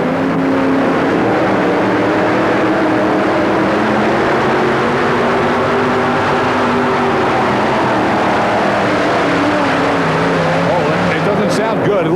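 A modified pulling tractor's engine roars at high revs during a pull run at an indoor tractor pull in the Houston Astrodome, loud and sustained, with pitch shifting through the run and an announcer talking over it.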